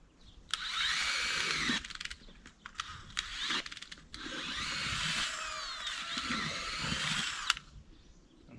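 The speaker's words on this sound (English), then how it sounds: "I've got a little drill bit on the end of this." A power drill with a small bit boring into wet farm ground whines in several bursts, with short pauses between runs, then settles into one long steady spell of grinding whir.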